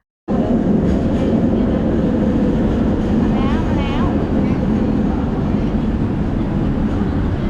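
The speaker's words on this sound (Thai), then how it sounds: "แป๊บเดียวรถไฟก็มาแล้วค่ะ" An LRT train rumbles loudly and steadily into a station in Malaysia, a constant roar with faint squeals and a murmur of voices underneath.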